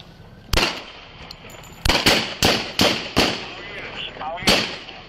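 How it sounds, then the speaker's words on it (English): Gunshots are fired at a police officer on School Street: about seven loud, sharp, close bangs come in an irregular sequence, several in quick succession, over a background of street noise. "Shots fired! Shots fired!"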